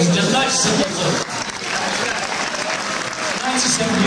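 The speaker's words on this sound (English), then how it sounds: "let's give her a big round of applause, ladies and gentlemen" Applause from the audience at a live swing-band show at the Swingboei in Loosdrecht, a broad steady clatter of many hands lasting the whole stretch, with crowd voices mixed in.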